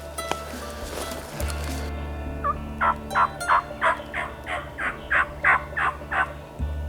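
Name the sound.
wild turkey gobbling during Ohio spring season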